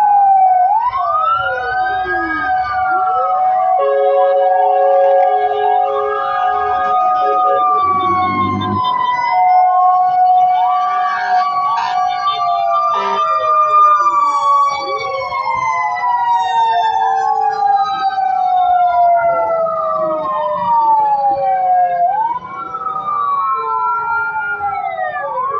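Several fire truck sirens wail and whoop together at a house fire in Sitio Manalite, Antipolo City, overlapping sweeping tones loud and close, with horn blasts near the start and a continuous rumble of traffic underneath.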